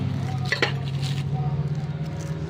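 A cooking pot is shifted and handled, giving a few close metallic clinks and knocks over a steady low hum.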